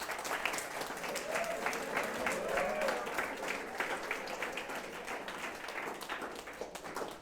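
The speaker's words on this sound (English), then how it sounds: "Big round of applause for Ashwini sir." An audience gives a round of applause for a guest at a school event, steady dense clapping that fills the room and slowly thins toward the end.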